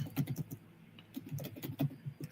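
Quiet typing on a computer keyboard: a soft, irregular run of close key clicks in short bursts with small pauses between them.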